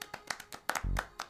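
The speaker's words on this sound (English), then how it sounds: "Okay, clap for me." People clap their hands in a quick, uneven run of about eight sharp claps, fairly close and clear.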